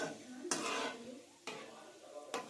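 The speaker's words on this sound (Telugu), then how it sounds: "ఈ మెంతులు కొంచెం రంగు మారేంత వరకు అటు ఇటు కలుపుతూ ఉండాలి." Fenugreek seeds roast in a pan for lemon pickle seasoning, soft dry sizzling broken by three distinct scraping stirs spaced about a second apart, quiet and close, no speech.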